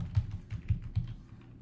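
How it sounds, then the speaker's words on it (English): Computer keyboard typing while entering text in Photoshop, a quick series of soft, low clicks in an uneven rhythm, close and fairly quiet, with no talking. "So what I will do is type out my Savvy Hut now."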